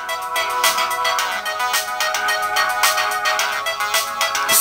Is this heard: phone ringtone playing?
yes